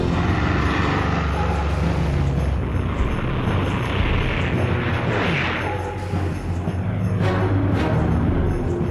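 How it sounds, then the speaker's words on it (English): Military aircraft roar overhead above Cairo, a loud, broad, continuous rumble with a rising and falling whoosh as planes pass, under a dense noisy wash. "Nasser hears planes in the skies above Cairo."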